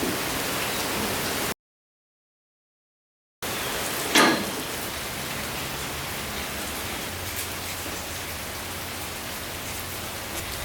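Rain falls outdoors in a garage or driveway area, a continuous broadband patter on surfaces at a moderate level. A brief gap of silence and a sharp knock break it, followed by a faint low hum.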